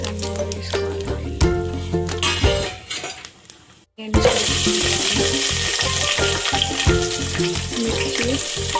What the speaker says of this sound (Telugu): ఒక స్పూన్ నెయ్యి, 2 స్పూన్లు నెయ్యి, బగారా స్పైసెస్ అన్నీ వేసుకోవాలి.